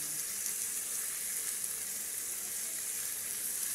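Fried pork for kare-kare sizzles quietly as it is stirred in a pan, a soft, even hiss that continues steadily throughout with no talking.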